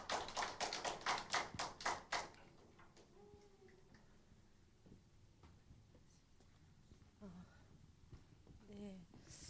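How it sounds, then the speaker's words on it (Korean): A church gathering's audience claps in a quick burst of several loud, rhythmic claps, then it fades into quieter room noise with scattered voices speaking. "박수 주세요"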